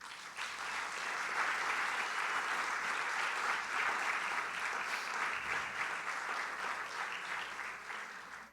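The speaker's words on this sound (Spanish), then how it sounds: "Así que un aplauso para Dios" Sustained applause from a seated church audience at a talk, steady and dense throughout, fairly loud and without speech over it.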